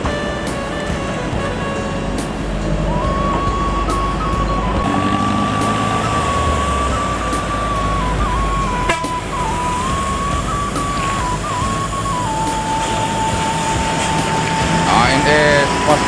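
An ANS bus rolls into Solok West Terminal with a loud, steady engine rumble and a sustained whining tone. Crowd and station noise fill the background, and a sharp clack sounds midway.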